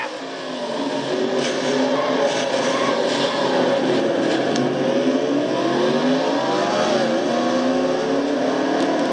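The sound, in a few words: race car crash in a racing video game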